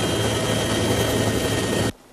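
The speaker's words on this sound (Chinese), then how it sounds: "空勤总队紧急派出直升机前往救援" A rescue helicopter dispatched to an earthquake rockfall site roars steadily and loudly overhead, a dense engine and rotor drone that cuts off abruptly near the end.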